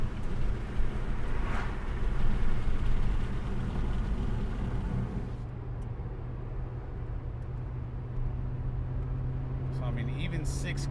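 A 2001 Audi S4 Avant with a six-speed gearbox pulling in sixth gear under light throttle: a steady, low engine drone with road noise from inside the car, and a voice talking over it.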